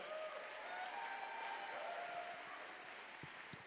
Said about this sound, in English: Come on, clap your hands, everybody.